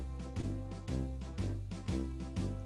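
Brass-band style music in a lilting 6/8 swing march rhythm, steady beat with accented pulses roughly every half second, loud and continuous.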